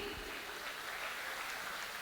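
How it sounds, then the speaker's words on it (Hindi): Steady, dense applause from a large audience at an opening ceremony in New York, greeting the Maharaja of Jodhpur during a lamp-lighting event; continuous clapping fills the whole moment without a break. "आपकी तालियों के साथ एक बार जोरदार तालियों से his highness Maharaja of Jodhpur महाराज श्री गज सिंह जी."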